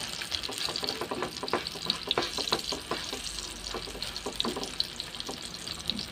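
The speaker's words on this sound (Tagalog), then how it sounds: "Ingay mo, kawali. Tapos, buhusan natin ng konting egg." Egg poured into a hot, noisy pan sizzles and crackles continuously, a dense spattering fry with irregular pops throughout and no voices.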